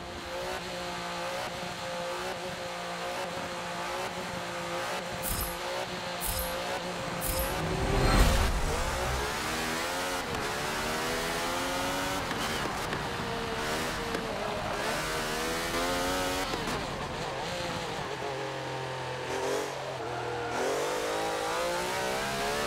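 A Brabham open-wheel race car in Forza Motorsport 7 revs hard and accelerates through the gears, its engine pitch climbing and dropping repeatedly in a steady, loud, close drone with brief tire squeal.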